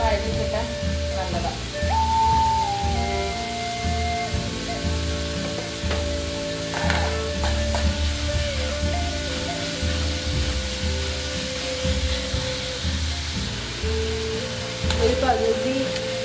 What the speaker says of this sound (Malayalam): ഉള്ളി പെട്ടെന്ന് വഴറ്റി കിട്ടാൻ നല്ലതാണ്